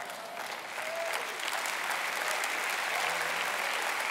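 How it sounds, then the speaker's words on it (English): Conference audience applauding during an evening leadership session, a dense steady wash of many hands clapping that holds for about four seconds, with a faint voice briefly audible near the end. "I love the applause, we just don't have time."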